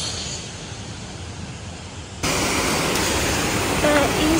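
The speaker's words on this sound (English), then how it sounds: "There is another waterfall there." Broadband rushing water from a waterfall in Mauritius plays steadily, then jumps louder partway through as if nearer, with faint voice-like sounds mixed in.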